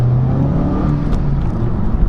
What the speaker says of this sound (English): the engine sound is not going to be to everyone's taste